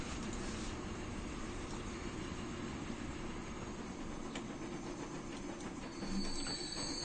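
A coal train rolls into a rail yard in the Transport Fever video game, a steady low rumble of wheels and wagons with faint clicking, lasting throughout and swelling slightly near the end.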